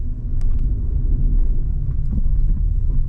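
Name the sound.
workers' vehicle passing on the Malshej Ghat road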